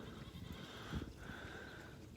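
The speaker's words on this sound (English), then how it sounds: "There's Butters, my fainting goat." A fainting goat on a small farm gives a faint, drawn-out bleat over steady outdoor background noise, heard from a short distance.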